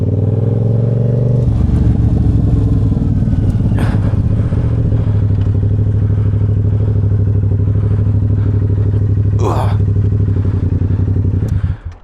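A Honda Grom motorcycle under throttle, a loud steady engine drone that rises after a moment and holds, with a couple of brief clatters or thumps, ending abruptly.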